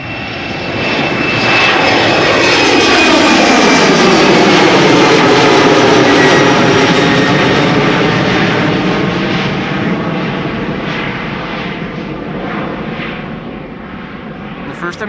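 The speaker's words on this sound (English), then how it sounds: "The first Embraer of the show, airborne, on its way to London City." Embraer jet taking off from runway 09 at Amsterdam Schiphol Airport, a loud, swelling engine roar that peaks mid-clip and slowly fades as the aircraft climbs away, with a commentator speaking over it.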